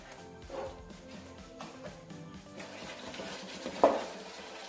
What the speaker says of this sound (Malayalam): നമുക്കിതിലേക്ക് മസാല പുരട്ടി വെച്ചിരിക്കുന്ന ചിക്കൻ ചേർത്ത് മിക്സ് ചെയ്യാം